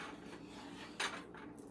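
A spoon scrapes and rubs through sausage gravy in a pan over medium heat, a quiet continuous stirring with one sharper scrape partway through.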